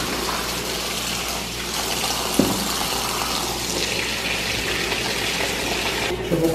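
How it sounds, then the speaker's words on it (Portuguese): Hot tap water pours onto cabbage leaves in a home kitchen to soften them for stuffed cabbage rolls, a steady close splashing gush that runs continuously with a few small knocks and no talking. "Aí eu vou deixar a água quente cair em cima delas"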